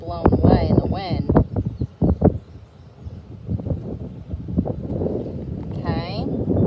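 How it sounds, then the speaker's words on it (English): Gusty outdoor wind buffets the microphone in uneven bursts, while people talk and children's voices come through near a baking soda and vinegar watermelon experiment. "Some of it's blown away in the wind."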